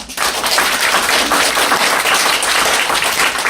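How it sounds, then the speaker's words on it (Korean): A seated audience at a USANA business presentation claps together in a loud, dense burst of applause. It starts sharply and carries on evenly for a few seconds without talk. "일단 박수 한번 칠까요?"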